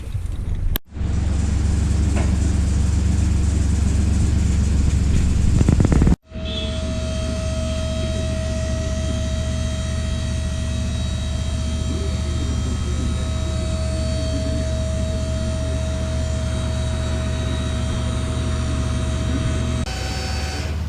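Steady engine and road drone fills the inside of a moving car heading to a mechanic, a vehicle with a troubled automatic transmission, after a brief louder rumble at the start and a sudden drop in level.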